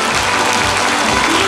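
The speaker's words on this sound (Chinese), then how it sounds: "让我们再次以热烈的掌声谢谢所有贵宾莅临指导" Dense, even audience applause at a Taiwan Railway Labor Day ceremony honoring model workers, a short, loud, continuous burst of clapping with no pauses.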